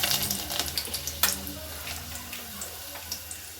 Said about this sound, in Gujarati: તેલ ગરમ થઈ ગયું છે। આપણે 2 થી 3 કળી આપણે લસણની નાખશું।